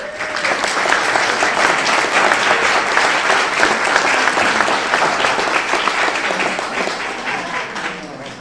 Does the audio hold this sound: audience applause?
yes